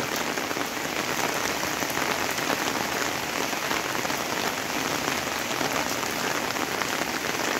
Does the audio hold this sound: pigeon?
no